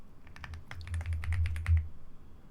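A quick, uneven run of crisp keystrokes on a Thai computer keyboard, heard up close with no voices, lasting a couple of seconds.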